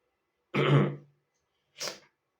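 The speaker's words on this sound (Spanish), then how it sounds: "me disculpan por la tos" A man with a cold gives one harsh throat-clearing cough, followed after a short pause by a second, lighter cough, both close to the microphone in otherwise quiet surroundings.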